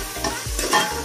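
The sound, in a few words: stirring and sautéing food in a pan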